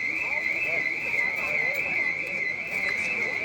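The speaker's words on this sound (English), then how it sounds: "Can you hear me over the alarm?" An alarm sounds during a community council meeting, a steady high-pitched continuous tone ringing throughout while a person talks underneath.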